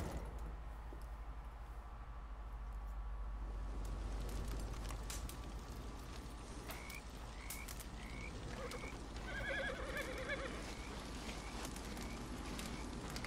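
Horse in the video game Red Dead Redemption 2 gives a faint whinny amid a quiet outdoor ambience with a low hum and soft calls in the background.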